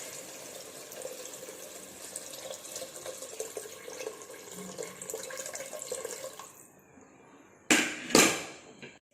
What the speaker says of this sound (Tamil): இப்போ நம்ம எடுத்து வச்சுருக்க அரிசிக்கு தகுந்த தண்ணியை இதில் ஃபஸ்ட்டு மிக்ஸ் பண்ணிக்குவோம்.